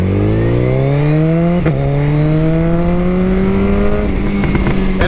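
A car in first gear launches hard from a standstill using launch control, its engine note climbing steadily in one long loud pull with a brief shift blip partway, then continuing to rise.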